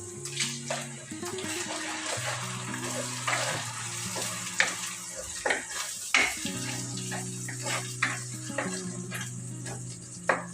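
Tomato paste stirred and fried in oil for a fish curry: repeated spoon scrapes and clicks over a soft, steady sizzle, with a continuous low tonal hum running underneath throughout.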